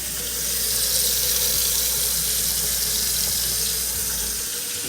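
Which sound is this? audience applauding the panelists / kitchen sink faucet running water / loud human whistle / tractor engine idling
kitchen sink faucet running water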